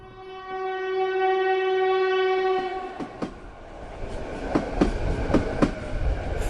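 A train sets off again after a sudden halt, starting with a long sustained horn blast, then building into the rhythmic clatter and clanking of wagons picking up speed, fairly close and with no voices.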